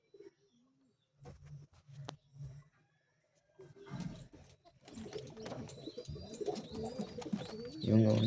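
Pigeons coo softly in a loft with young chicks, several low throaty calls rising into busier rustling and cooing, with a voice briefly talking.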